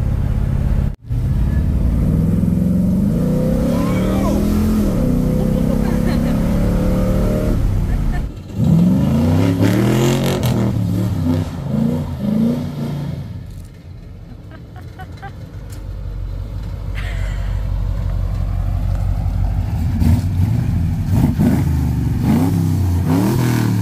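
An old car with 180,000 miles revs and pulls hard while driving, its engine rising and falling in loud surges with a low rumble throughout, under people talking.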